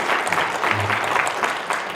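Audience applause at a book concert fills the room, a steady wash of many hands clapping close by without a break for the whole stretch.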